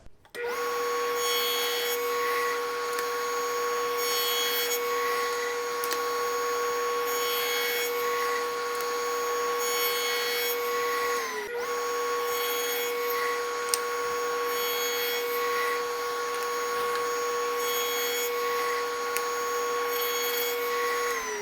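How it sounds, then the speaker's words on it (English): Table saw cutting dadoes in wood for a kitchen drawer divider, a loud steady motor whine with repeated rhythmic cutting passes and one brief dip midway, close and continuous, no talking. "we're going to do all of our dadoing based upon the drawing that I have made"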